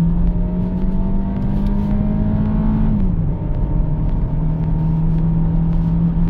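A 2018 Hyundai Tucson 2.0 with automatic transmission and all-wheel drive accelerates hard toward 100 km/h, its steady engine drone climbing in pitch, with one gear shift briefly dropping the tone partway through; no one talks.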